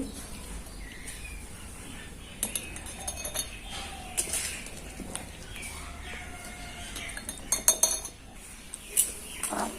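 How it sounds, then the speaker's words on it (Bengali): Olive pickle is spooned into a glass jar, giving sparse, light clinks of utensil on glass against a quiet background with faint bird calls. "এটা এবার আমি আস্তে আস্তে জারের মধ্যে ফিল করব"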